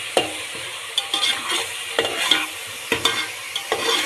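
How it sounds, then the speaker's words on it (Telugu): Sliced onion and green chillies frying in hot oil in a pan, a soft steady sizzle broken by repeated scraping stirs of a spatula, close by and without talk. "ఉల్లిపాయ పచ్చిమిరపకాయ వేసి ఉల్లిపాయ రంగు మారేంత వరకు వేపుకోవాలి"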